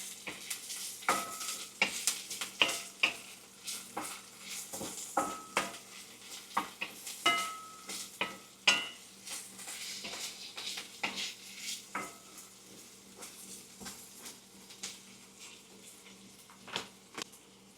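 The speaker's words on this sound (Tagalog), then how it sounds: "I will add the leftover fried pork." Leftover fried pork is tipped into a pan and stirred, with a soft steady sizzle under repeated scraping and clacking of a utensil against the pan, moderately close and without talking.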